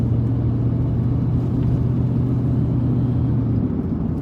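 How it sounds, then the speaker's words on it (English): A noisy Ford Expedition needing front-end work and alignment, heard from inside as a loud, steady low engine and road rumble with a constant hum throughout. "I apologize for the noisy vehicle"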